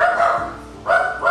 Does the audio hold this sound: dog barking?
yes